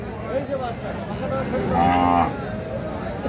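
A Sahiwal cow with her calf at a cattle market gives a single clear moo midway, set against a noisy crowd with people talking nearby.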